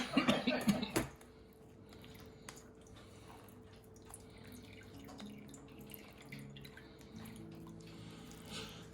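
Pepper hot sauce juice drips through a small strainer, faint scattered drops and light trickling after a loud cough-like burst at the start.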